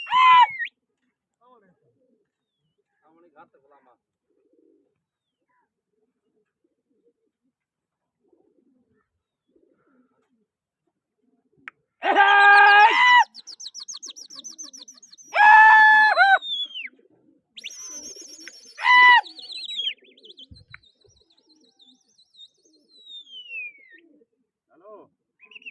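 Pigeons coo in several short bursts in an open, quiet space, with fluttery calls and some softer chirps between them.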